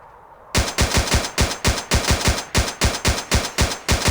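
Rapid, evenly spaced gunshots from the stealth video game Splinter Cell Blacklist, loud and close. About fifteen sharp cracks fire in a steady automatic rhythm after a brief quiet start, with no talking.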